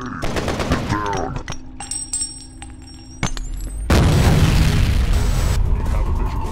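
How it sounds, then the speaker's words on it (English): A grenade blast and rapid gunfire in the shooter game F.E.A.R. Perseus Mandate: bursts of automatic fire and sharp shots, then a sudden loud explosion roar that sustains to the end, mixed with faint game voices. "Look out, grenade! Get down!"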